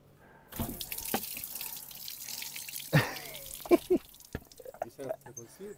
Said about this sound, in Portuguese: Vamos esgotar toda a água aqui do, do radiador.